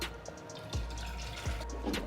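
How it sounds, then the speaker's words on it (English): Water poured into a cooking pot for cooking yam, with a few splashing gulps and drips over a low background hum. "So I'm going to be adding water."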